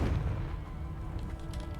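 A Confringo fire spell bursting in Hogwarts Legacy, a dense low rumbling boom that fills the short moment and fades slightly, close and fairly loud with no talking.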